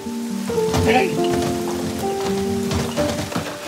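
Rain pours steadily onto a surface, a continuous hiss with scattered drops, laid under sustained musical tones throughout.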